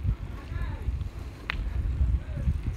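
Strong wind buffets the microphone outdoors on Jeju, Korea, a continuous low rumbling gust with uneven swells and one brief higher rustle.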